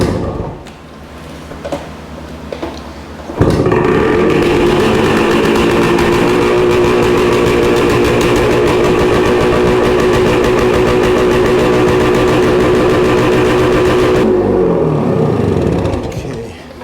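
A cold 1966 Suzuki Bearcat 120cc motorcycle engine catches after a few quiet seconds and settles into a loud, steady idle that runs for about ten seconds before cutting off abruptly.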